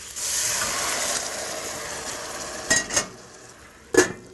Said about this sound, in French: On va verser ce mélange-là sur notre volaille